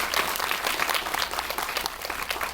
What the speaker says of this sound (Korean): 성심성의껏 답변해 주신 두 분의 배우분께 박수를 부탁드립니다